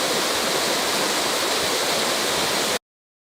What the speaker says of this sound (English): So here's the another shot of the waterfall.